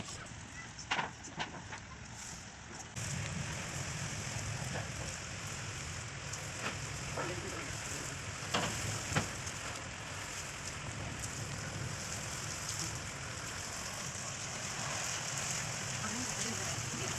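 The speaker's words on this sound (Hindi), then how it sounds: "इतनी तेज़ बारिश हो रही है" Heavy rain pours steadily on a village rooftop, a dense continuous hiss with a few sharper drops and knocks, growing fuller after the first few seconds and staying loud throughout.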